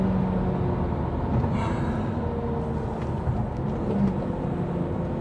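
A BMW M3 E36 engine running on a test drive, heard as a smooth, continuous low drone with a steady road rumble from inside the car, without talking.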